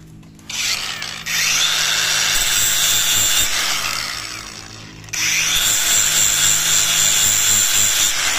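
Angle grinder grinds a metal part of a Yamaha RXT 135 motorcycle, a loud close shrill whine running in two long passes with a brief dip between them.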